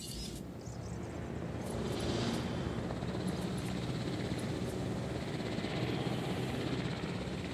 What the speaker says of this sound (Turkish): Transport helikopterleri de çok yavaş uçuyor ya.